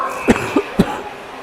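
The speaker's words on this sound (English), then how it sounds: "with my coughing attacks, which you are no doubt hearing" Three short, sharp coughs in quick succession, close and fairly loud, with faint background noise between them.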